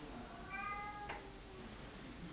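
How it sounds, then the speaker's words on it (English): A single faint cat meow sounds from a distance, brief and plaintive, over a quiet background hum. "if you hear that, then it's Maze, my cat, who is upset that he's locked out of getting in my office."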